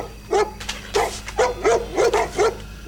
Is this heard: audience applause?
no